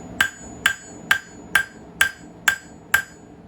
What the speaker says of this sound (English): You're scooting it towards the far side away from you so you can get your hammer down on it.